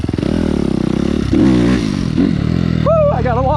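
Suzuki RM-Z250 dirt bike engine running close by, a loud buzzing single-cylinder drone that rises and falls with revs, with a voice briefly heard near the end.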